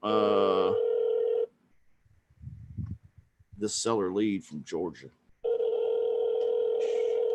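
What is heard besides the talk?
telephone dialing a number and dial tone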